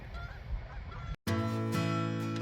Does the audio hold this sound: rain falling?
no